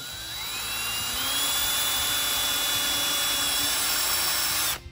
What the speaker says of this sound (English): So we're going to pre-drill it.